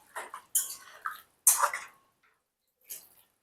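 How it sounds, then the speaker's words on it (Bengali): Hot water poured into a pan of vegetarian jackfruit curry gives a few short splashing, gurgling bursts, close and fairly quiet, with pauses between pours and no speech. "এতে আমি পরিমাণ মতো গরম জল দিয়ে দেব।"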